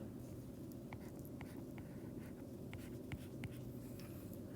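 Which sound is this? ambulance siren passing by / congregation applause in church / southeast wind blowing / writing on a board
writing on a board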